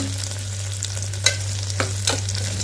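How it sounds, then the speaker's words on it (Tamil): Coriander and fennel seeds frying in hot oil, a steady close sizzle with a low hum beneath and a few brief scraping stirs of the spoon, no voices. "இந்த மல்லியும் சோம்பியும் நல்லா அந்த எண்ணெயிலே"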